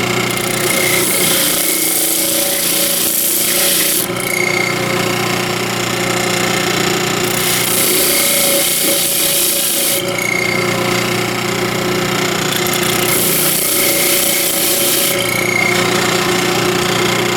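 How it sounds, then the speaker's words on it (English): A power tool smooths the bottom of a turned spalted maple segmented vase, a loud continuous grinding whine that runs steadily throughout and swells in bursts of brighter, harsher high-pitched noise at regular intervals. "Okay, we got to get the bottom smoothed out here."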